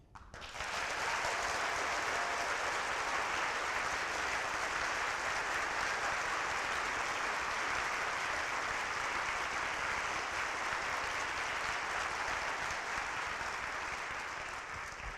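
An audience at an energy slam event claps to vote for a solar energy speaker, a full, even round of applause that starts abruptly and carries steadily for about fifteen seconds before easing slightly.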